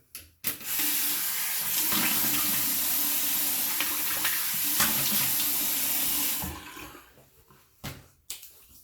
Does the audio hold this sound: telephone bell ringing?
no